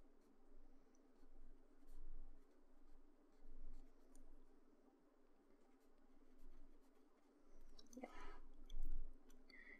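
Pen nib scratching on paper in short, soft strokes, faint and close, with a louder scrape near the end.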